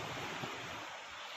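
Sea waves wash onto a beach at Trieste, Italy, a soft, continuous surf roar mixed with wind rushing over the microphone, quiet and steady with no voices.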